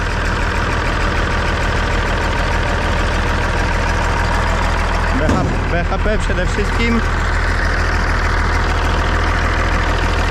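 A heavy combine harvester diesel engine idles steadily with a rhythmic ticking knock close by, while someone speaks briefly over it.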